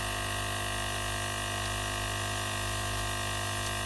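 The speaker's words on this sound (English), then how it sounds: "turning the turntable, keeping your airbrush relatively still." An airbrush sprays paint onto a cake turning on a turntable, giving a continuous, even hiss over a steady mechanical hum from the compressor, with no voices.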